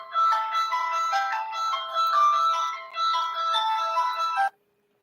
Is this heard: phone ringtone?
yes